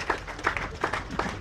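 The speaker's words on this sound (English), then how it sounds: "we all have to please give a big round of applause to our investors for choosing Sierra Leone" A short round of applause for investors at a mining investment event in Tonkolili District, Sierra Leone, with rhythmic clapping under some crowd noise.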